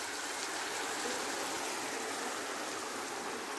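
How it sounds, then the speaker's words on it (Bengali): Mushroom essence water poured into a pan, a steady soft hiss of liquid running and trickling at even volume throughout, with no voices. "আমি এখানে যে এসেন্সের জন্য যে জলটা বানিয়ে রেখেছিলাম সেটাকেও অ্যাড করে দিলাম।"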